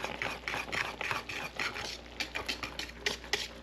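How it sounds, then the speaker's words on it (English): A whisk scrapes and stirs briskly in a pan of bubbling sugar mixture for bee-feeding blocks, fast steady strokes with a wet, grainy texture, close by and with no talking. "I just use a whisk"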